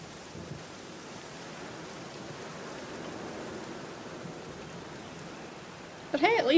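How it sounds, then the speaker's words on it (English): Rain falls in the 2003 video game The Black Mirror, a soft steady hiss throughout that jumps to a louder burst right at the end. "at least the garden's not going to dry out too much with that rain"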